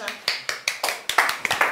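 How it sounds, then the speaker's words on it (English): About nine sharp, evenly spaced claps ring out in quick rhythm, a short round of applause from a small group, close and clear with little else around it. "you give a round of applause!"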